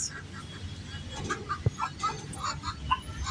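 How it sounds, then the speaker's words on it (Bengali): A hen on a rooftop gives soft scattered clucks at close range, mixed with faint bird calls and quiet background talk. "এই যে এখানে আরেকটা মুরগি"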